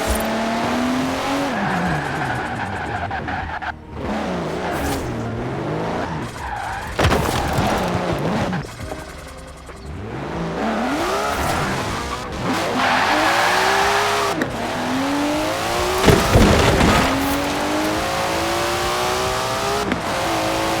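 A race car in a PlayStation 5 driving game, played on a DualSense controller, revs hard with engine pitch sweeping up and down through gear changes, broken by repeated loud tire skids and squeals, close and continuous.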